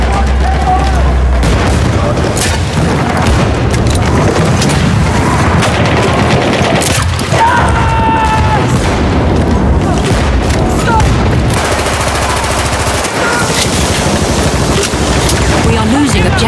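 Dense Battlefield combat: continuous rapid gunfire bursts and heavy booming explosions fill the scene, loud and close throughout, with a voice talking over parts of it.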